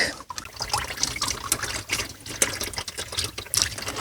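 Coolant trickles and splashes out of a 1982 BMW 528e engine block as its water pump is pulled off, a close, steady liquid dribble and pour with small irregular spatters and no voices.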